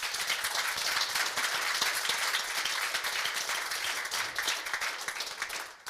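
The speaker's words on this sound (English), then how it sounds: "If you could give them a round of applause, please." An audience gives a sustained round of applause at a design thinking event, dense steady clapping from many hands filling the room for several seconds before tapering off at the end.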